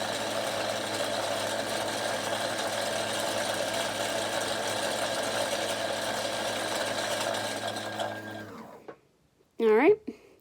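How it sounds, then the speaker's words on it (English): A sewing machine winding a bobbin whirs steadily and fairly loudly for about eight seconds, then winds down and stops, followed by a brief squeaky noise near the end. "You can see the bobbin filling up. It's a little noisy."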